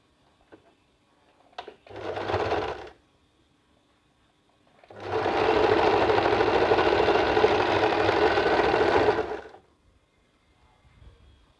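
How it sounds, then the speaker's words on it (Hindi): A sewing machine stitches the shoulder seam of a top, first a short burst of stitching, then a longer steady run of about four seconds, close and loud, with no talking. "इसको बिल्कुल बराबर से रखते हुए फिनिशिंग के साथ सिलाई डाल देंगे।"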